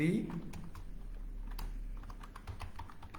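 A computer keyboard in a code editor, with quick irregular keystrokes clicking close by over a low steady hum. No voices are heard.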